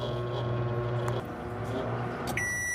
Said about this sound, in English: Now take this potato, you're gonna place it in the microwave.